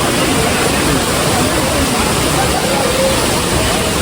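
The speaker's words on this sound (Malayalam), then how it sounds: "ഇതാണ് ഇവിടുത്തെ വെള്ളച്ചാട്ടത്തിൻ്റെ വ്യൂ വരുന്നത്." A waterfall at Amboori, Kerala, a loud, continuous rushing roar of falling water close by that fills the whole stretch without pause.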